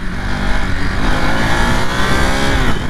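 Engine of a 2023 Ducati Monster motorcycle in A2-restricted 47.5 hp form, ridden in touring mode; a loud, steady drone holding near and continuous throughout with no talk over it.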